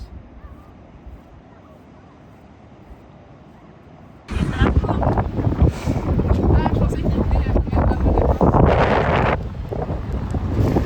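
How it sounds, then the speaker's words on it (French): Wind rushing against the microphone at a beach in La Rochelle, quiet at first and then suddenly loud and blustery, rumbling in uneven gusts. "Il y a un peu de vent."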